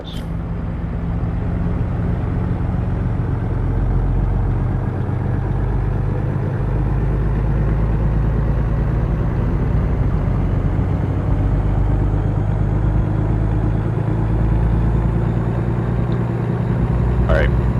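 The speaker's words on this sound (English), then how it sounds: "Coach USA bus." A Coach USA bus engine idles with a steady low rumble, loud and continuous throughout, under faint background voices.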